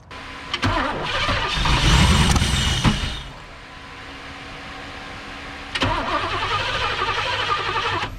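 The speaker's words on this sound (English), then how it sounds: "Alright, let's crank on and see what happens." A 1991 Firebird Trans Am engine converted from TPI to carburetor cranks briefly, then catches and starts, revving up loudly before settling into a steady run; no talking.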